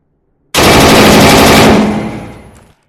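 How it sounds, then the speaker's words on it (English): Machine gun firing in the VR shooter Tactical Assault VR, a single loud, close sustained burst that starts abruptly, then tails off into a fading echo. "it is a machine gun"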